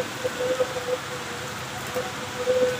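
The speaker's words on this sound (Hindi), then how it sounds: "तेज बारिश" Heavy rain pours steadily in Lahore as a dense, even wash of hiss, with faint tonal sounds in the background.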